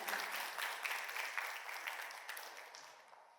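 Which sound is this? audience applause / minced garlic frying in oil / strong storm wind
audience applause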